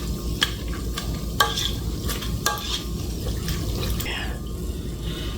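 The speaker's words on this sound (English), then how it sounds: "We're gonna mix this up just real quick." Meatballs stirred into store-bought sauce in a pan, wet scraping and sloshing with a faint sizzle underneath and occasional utensil clicks, close and continuous with no talking.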